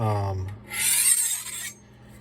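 A butcher knife's blade is drawn along a 12-inch honing steel in one long close rasping stroke lasting about a second, preceded by a short, low, steady hum.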